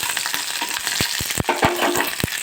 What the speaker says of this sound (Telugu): ఒక ఐదు ఎండు పచ్చిమిర్చి అయితే వేసి కొద్దిగా ఇలా ఫ్రై చేసుకోవాలి ఆయిల్లో